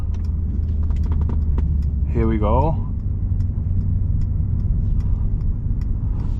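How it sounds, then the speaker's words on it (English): Brabus SL GTS Rocket engine rumbling low and steady as it drives slowly into the Brabus factory to park, with a brief rising rev in the middle and someone talking over it. "We will be parking the car right back inside where it belongs."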